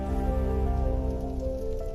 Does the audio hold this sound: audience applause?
no